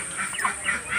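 Ducks and chickens kept by a rural household call in short, overlapping honking squawks, fairly close and steady at moderate loudness, with no talking.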